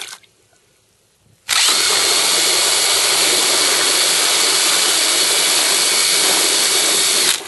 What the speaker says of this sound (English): Vortex generator flat out in a pond.